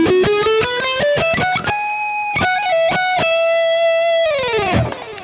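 An electric guitar with a distorted tone runs up an E Mixolydian flat 6 scale, picked one note at a time, then holds a sustained note and ends on a bend. The playing is clear, close and solo.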